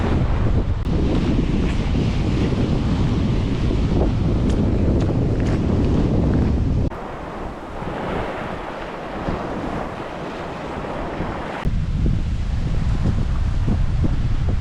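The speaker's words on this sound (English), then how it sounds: "I'm trying to look for a wee bit out of the wind." Strong wind gusting outdoors in Wormit, roaring as loud, steady buffeting noise against the microphone, easing somewhat for a few seconds midway before rising again.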